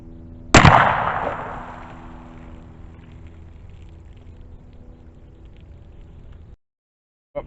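A single sharp report from a 10mm carbine firing a DoubleTap controlled expansion hollow point, with a long fading echo, then a quiet mechanical click near the end.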